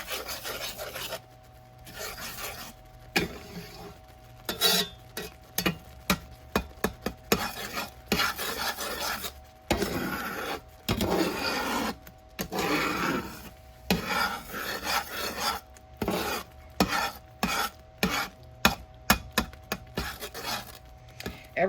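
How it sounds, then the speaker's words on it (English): Utensil scraping the sides of a cooking pan during pan cooking, a run of repeated short rasping strokes, close and fairly loud, with a faint sizzle underneath and no talking. "Sorry for the scraping, guys, but I like to keep my sides of my pan clean"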